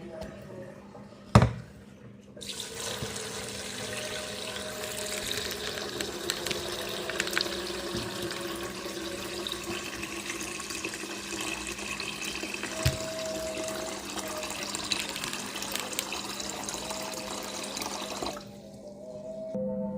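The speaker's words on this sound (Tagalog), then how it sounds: "Lagyan na po natin ng tubig." Water poured into a pot of beef that has been washed and is about to be boiled for beef pares: a steady, close splashing stream that runs for most of the clip and then stops, with a short clunk at the start.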